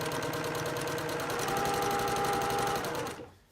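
A sewing machine stitches a quilt in a fast, steady mechanical chatter, running loud and close before winding down and stopping at the end.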